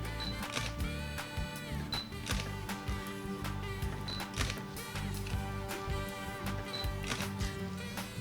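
Repeated mechanical clicks of a Fuji or Sony camera shutter fired by a wireless remote, several times, with short whirring and clacking sounds over a busy background.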